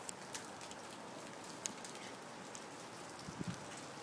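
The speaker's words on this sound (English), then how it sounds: "it's hailing" Hail falls outdoors with rain, a steady soft patter broken by a few sharper ticks of stones hitting surfaces, heard at moderate distance with no talk; a bird coos faintly in the background.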